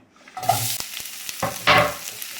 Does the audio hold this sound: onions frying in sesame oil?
yes